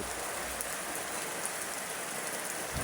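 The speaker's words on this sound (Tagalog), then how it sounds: "So maulan talaga guys." Steady rain falls throughout, a dense even hiss of drops pattering on surfaces with no voices over it.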